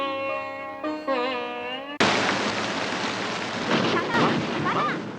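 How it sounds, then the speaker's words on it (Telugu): Rain and thunder burst in abruptly after a short tonal passage, becoming a loud, steady, broadband roar of heavy rainfall with low rumbling underneath that continues to the end. "వర్షం వస్తుంది, వర్షమా?"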